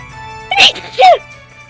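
A single close sneeze in two quick bursts, sharp and loud against a quiet background, alone with no talk.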